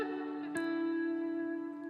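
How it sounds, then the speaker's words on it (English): Electric guitar chord ringing out through heavy reverb and delay, a sustained shimmering tone with a fresh strum halfway through that blooms and slowly trails away, no voices. "Great to hear a guitar led with that lovely reverb tail. Some delay in there as well."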